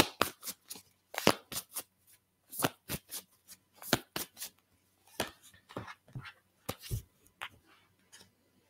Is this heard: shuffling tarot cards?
yes